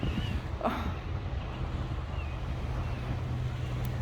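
Strong wind gusts along the River Thames on London's Southbank on a rainy day, a constant low rumble buffeting the microphone, loud and steady throughout.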